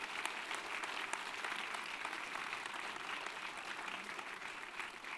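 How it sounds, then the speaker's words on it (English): A crowd applauds at a screening Q&A, a steady wash of many hands clapping, fairly faint and even throughout with no break. "So please give yourself a round of applause."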